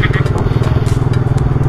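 DL150 motorcycle ridden along a town road, its engine a steady throbbing putter close by, with someone talking over it.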